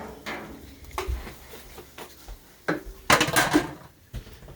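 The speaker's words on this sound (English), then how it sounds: "Drop the spatula." A spatula dropped in a kitchen while trout fried rice is cooked, a few scattered clatters and knocks of utensils on a hard surface, the loudest cluster near the end, with no talk.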